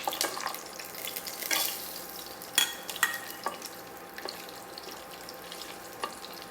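Whole garam masala spices crackle and sizzle in hot oil in a pan for a chicken shorba, with steady frying hiss broken by several sharp pops and stirring clatters, no talking.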